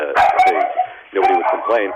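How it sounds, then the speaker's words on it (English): A pet dog barks and yips close by in a home, several sharp, pitched barks in two quick bursts, with a person's voice overlapping. "sorry, that's my dog"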